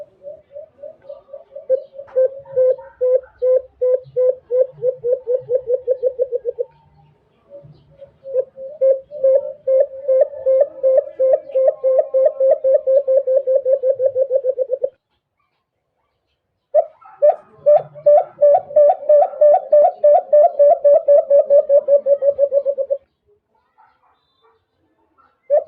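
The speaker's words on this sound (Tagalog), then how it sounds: "ganito ang huni ng baylan mga idol" A baylan bird's call, loud and close, in long runs of rapid repeated clucking notes, each run lasting several seconds and broken by short pauses.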